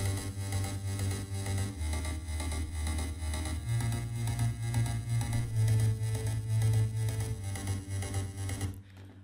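Progressive house EDM mix after EQ in FL Studio, a steady full-band loop with a heavy sustained bass and regular beat running throughout at even loudness, cutting out abruptly near the end.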